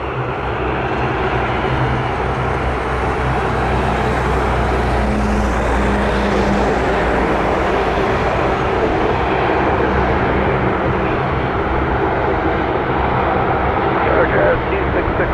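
A Dash 8 Q400 turboprop drones steadily at Toronto Pearson airport, a loud, continuous engine roar that swells slightly in the middle and holds throughout.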